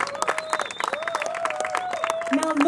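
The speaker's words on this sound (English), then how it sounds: "Can I get a big round of applause, please?" An audience claps at the Abu Dhabi reveal of the Mercedes AMG GT R with Lewis Hamilton, bursts of clapping scattered over sustained tones of music or voices, at moderate volume.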